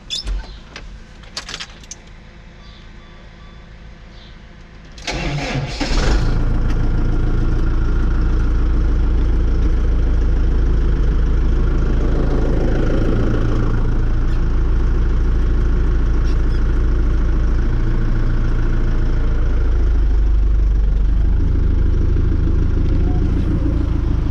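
A few clinks and knocks, then a heavy tractor engine starts and idles steadily with a deep, constant rumble for the rest of the time.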